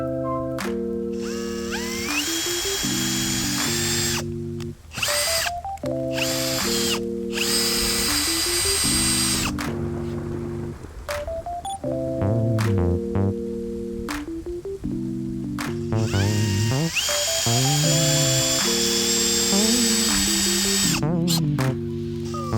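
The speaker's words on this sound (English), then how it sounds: "just make your initial pilot holes" A power drill whirs in repeated short bursts, making pilot holes in a kayak, its pitch rising and falling as it spins up and bores, close and fairly loud with brief pauses between.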